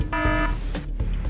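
An alarm on a drilling rig gives a short electronic buzzing tone over a steady background rumble, followed by a couple of brief muffled thumps, close and without talk.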